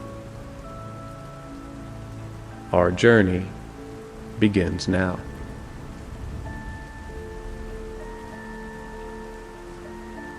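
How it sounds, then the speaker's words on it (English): Steady rain patters against a diamond-paned dormitory window as a soft continuous wash, with a calm voice speaking briefly over it twice. "The rain begins as you're sitting by the diamond-paned window in your dormitory, watching the first droplets trace silver paths down the glass."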